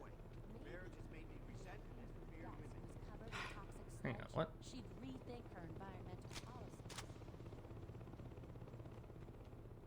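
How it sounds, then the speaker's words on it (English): A helicopter in the video game Saints Row 2 gives off a steady low rotor drone that runs the whole time, beneath a person talking and a few brief game sounds. "I think there's a helicopter."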